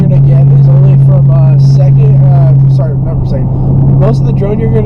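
A deep, constant exhaust drone hums inside a Dodge Charger R/T cruising at 2,000 to 3,000 RPM, loud and steady throughout, with someone speaking over it.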